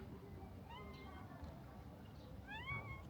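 A cat meows several times, soft rising cries near the start and a louder pair near the end, over quiet outdoor background.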